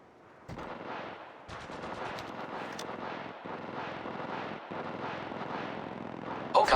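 Gunfire in the video game Apex Legends during a sniper-and-pistol-only match, dense sustained shooting with brief gaps and a louder burst at the end, without clear talk.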